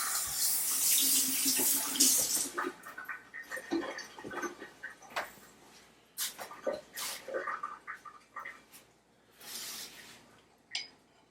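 Running tap water while hands are washed at a kitchen sink, a hissing stream at first, then irregular splashes, drips and scrubbing sounds, fairly faint and with no talk.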